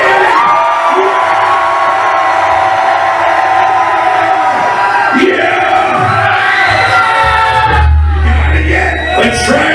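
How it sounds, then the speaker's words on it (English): Concert audience at a rock show yelling and screaming together, a loud sustained roar of many voices with whoops and cheers swelling throughout. "I'm gonna yell, then the audience will yell, and you make me louder."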